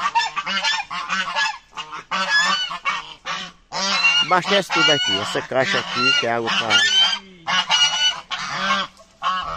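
Loud, repeated goose honking dominates, with overlapping calls in rapid bursts close by on a farm in Sumé, Paraíba, while someone speaks intermittently underneath.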